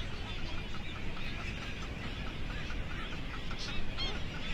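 A colony of brown boobies calls at the nest, with harsh honking cries rising and falling over a steady, dense background of seabird noise.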